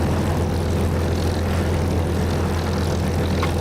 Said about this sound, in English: I'm going to cut the engine. This is noisy.